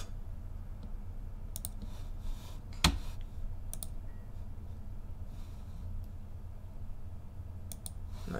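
Mouse clicks from using the knife tool in Blender, a few sparse, faint, sharp clicks spread over a low steady hum, with one slightly stronger click near the middle.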